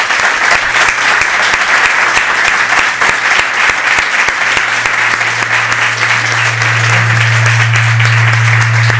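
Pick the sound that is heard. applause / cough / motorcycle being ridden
applause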